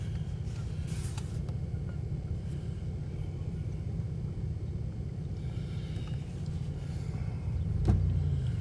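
Car driving, a steady low engine and road rumble throughout, swelling slightly near the end.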